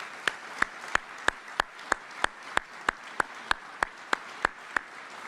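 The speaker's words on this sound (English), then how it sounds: "let's give them all a round of applause" Steady applause at a U.S. Army Medal of Honor Hall of Heroes induction ceremony, with sharp, evenly spaced claps standing out in a regular rhythm over a continuous crowd wash, close and moderately loud.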